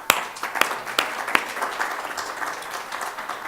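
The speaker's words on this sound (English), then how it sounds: "So big round of applause to you." An audience at a literary award event applauds, a few sharp near claps at first, then a steady patter of clapping across the room.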